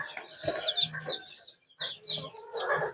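Clucking free-range hens and high peeping newly hatched chicks call back and forth up close, a few short bursts of farmyard bird sounds with no talking.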